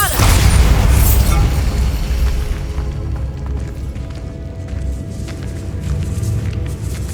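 A Bombarda blasting spell goes off in Hogwarts Legacy inside a decaying catacomb, a loud, booming burst at the outset that rumbles on as a heavy, lingering roar.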